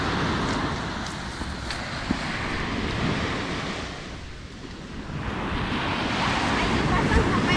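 Waves wash onto the beach at Desaru, a loud, continuous surf roar mixed with wind buffeting the microphone, easing briefly in the middle before building again.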